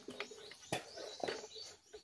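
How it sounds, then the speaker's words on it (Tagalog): Birds sing outdoors in short, fairly faint chirps and calls scattered across a couple of seconds, with a soft cooing note among them. "Kinakantahan tayo ng ng mga ibon."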